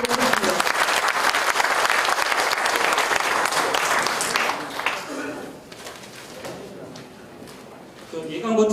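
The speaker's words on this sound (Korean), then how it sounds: "자, 큰 박수 부탁드립니다" Crowd applause at the opening ceremony of a livestock cooperative's new head office in Icheon, loud and steady for about four seconds, then tapering as a host speaks, with clapping swelling again at the end.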